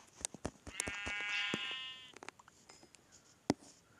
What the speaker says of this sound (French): Ah non, c'est un mouton.